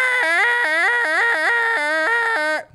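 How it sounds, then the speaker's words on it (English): The death sound from the video game Danganronpa V3 is a rhythmic, tonal electronic jingle of repeated rising-and-falling notes that cuts off abruptly at the end. "That's the sound of someone dying."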